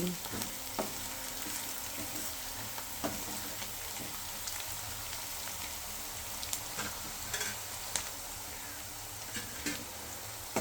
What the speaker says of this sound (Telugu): ఆనియన్ ఫ్రై అవుతున్నాయండి.